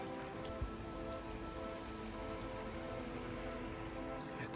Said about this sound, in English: It's very rainy. It's very wet.